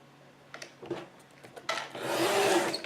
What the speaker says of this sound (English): And there I cut a 1/4 inch strip